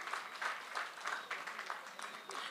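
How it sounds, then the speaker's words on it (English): An audience applauds at a youth awards ceremony, a dense wash of many hands clapping together, fairly distant and soft, sustained without breaks. "Let's give a huge round of applause to all of our secondary schools."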